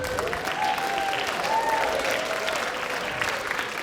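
A school winter band concert audience claps steadily in a hall, a dense, even wash of applause with a few whistles and cheers riding on top.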